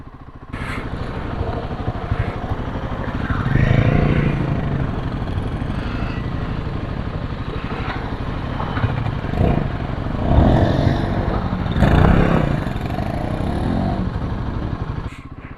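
A Royal Enfield Himalayan 450 motorcycle engine rumbles steadily throughout, with the throttle rising in a few brief surges, close and fairly loud with wind noise.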